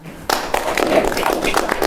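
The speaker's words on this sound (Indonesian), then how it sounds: "Bisa tepuk tangan." An audience clapping hands in a quick, dense burst that starts abruptly and stays loud, with some talk audible underneath.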